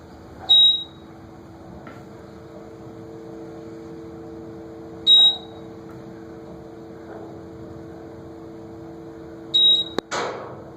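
Otis Series 7 GEN2 elevator doors in a classroom building, heard as a steady low machine hum with three short, bright chimes spaced several seconds apart and a sharp thud of the doors meeting near the end.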